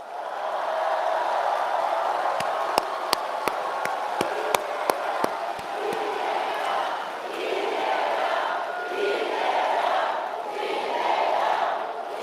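Party members at a political rally in the Yeongnam region break into sustained crowd applause and cheering, loud and continuous throughout, with a brief run of sharp rhythmic claps or drum hits near the start.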